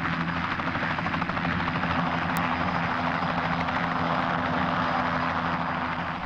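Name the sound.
helicopter in flight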